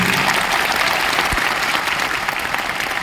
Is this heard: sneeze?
no